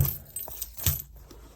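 Car keys jangle in a few quick metallic clinks and rustles as they are dropped into a small denim shoulder bag, close and fairly loud.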